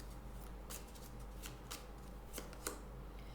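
Tarot cards being shuffled and drawn, with several quick papery riffles and slaps spaced irregularly over a steady low hum, close and fairly quiet, with no one talking.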